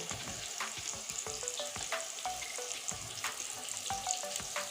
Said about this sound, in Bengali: দেখুন আমি কত সুন্দর করে আলুগুলো ভাজতেছি আলু ভাজতেছি